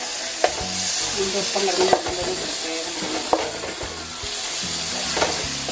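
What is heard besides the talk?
sautéing garlic-ginger paste in a pan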